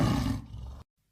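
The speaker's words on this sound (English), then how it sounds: "tiger" A tiger in a jungle lets out a short, loud, close roar, harsh and raspy, that drops off abruptly into silence after under a second.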